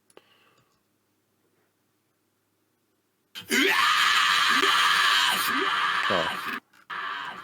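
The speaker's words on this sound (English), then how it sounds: "I'm assuming it's a fry scream." A fry scream vocal track plays back loud and raspy after a quiet start, holding a harsh, distorted tone with a few pitch bends before a short gap and a final burst.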